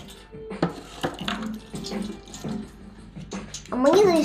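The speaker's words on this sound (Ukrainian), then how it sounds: "Дійсно, треба перший прилив злити." Water is poured off green tea leaves as the first infusion is discarded, with splashing and clinks of teaware, while people talk over it and a louder pour comes at the end.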